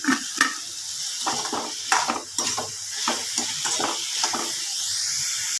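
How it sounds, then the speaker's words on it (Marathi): Mixed vegetables fry in a little oil in a pan, a close, continuous sizzle broken by frequent clattering stirs and scrapes of a utensil against the pan, with no talking. "आपल्याला छान फ्राय करायचं आहे हे बघा आता मस्त आपली फ्राय झालेली आहे भाजी"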